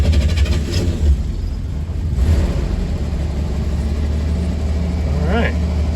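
The engine of a Corsa car rumbles loudly and swells as the throttle is opened, holding a heavy, low idle-to-rev roar throughout, with a short voice sound near the end.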